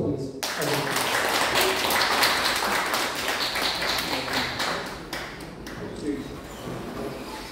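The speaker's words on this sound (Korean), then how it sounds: "큰 박수 부탁드리겠습니다" An audience at a Korean forum applauds to welcome a speaker, a dense burst of clapping that starts abruptly and holds steady for several seconds before thinning out.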